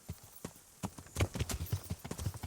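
Several horses walk in Kingdom Come Deliverance, their hooves making irregular overlapping clip-clops, close and fairly soft, with no speech.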